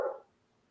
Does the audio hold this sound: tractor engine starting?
no